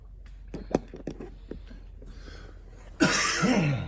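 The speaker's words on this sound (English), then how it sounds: "Man, coughing my guts out." A few short, rough coughs come first, then a harsher, louder burst of hacking near the end, close to the microphone with no talking.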